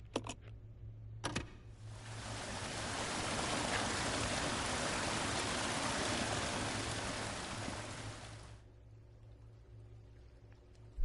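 Water gushes steadily into a reservoir in the video game Resident Evil 0, a loud broad rushing that runs for about seven seconds after a few short clicks and then cuts off, leaving a low hum.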